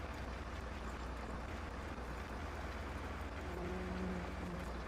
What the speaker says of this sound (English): You should hear the tractor and that.